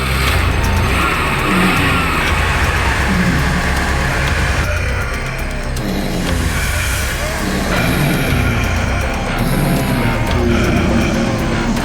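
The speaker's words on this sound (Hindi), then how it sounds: "गाड़ी चालू करो" Car driving off in a dramatic night scene, loud continuous engine roar with tire squeal and skidding that fills the clip, shifting partway through, with raised voices mixed in underneath.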